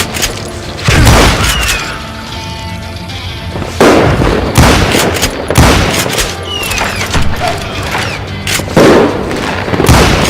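Gunfire in the western shooter Call of Juarez Gunslinger: loud, close bursts of shots and booming reports repeat across the whole stretch over a dense, noisy game soundscape.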